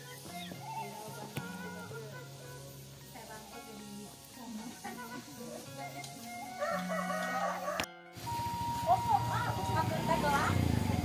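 Rooster crowing in a village in rural Sumedang, clear and fairly close among other background sounds, with people talking over it.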